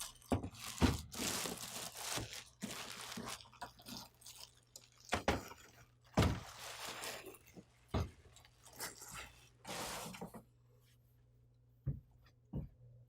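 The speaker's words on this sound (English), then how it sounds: "Slide out the printer from the plastic bag." A new HP OfficeJet Pro 6978 printer is slid out of its plastic bag, giving close bursts of crinkling and rustling plastic with short bumps and handling noises, and brief pauses between them.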